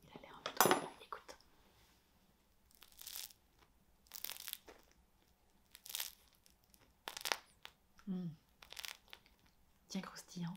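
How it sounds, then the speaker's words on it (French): Sharp crackling crunches of crusty bread, several irregular bursts spread over about ten seconds, close to the microphone with faint rustling between them. "Est-ce que le pain est craquant? Il a l'air un peu trop. Écoute."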